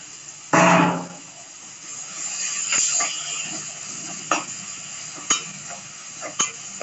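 Tomato dropped into a pan of well-roasted onions for a mushroom curry: a loud burst of sizzling hiss at the start that settles into steady frying, with a few sharp stirring knocks and clinks of the spoon against the pan.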